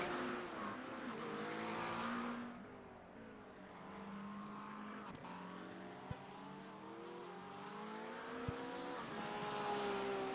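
Race cars in a GT racing video game lap a track, engines droning and shifting pitch continuously with rising and falling revs, a few sharp clicks, moderately loud throughout with no talk.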